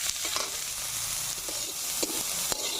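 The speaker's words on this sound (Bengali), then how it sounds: "এখন আমি পেঁয়াজ, লঙ্কা কুচানোগুলো ভেজে নেবো তেলে।" Chopped onion and green chilli fry in oil on a village stove, a loud continuous sizzle close by with a few short stirring taps spaced through it, no voices.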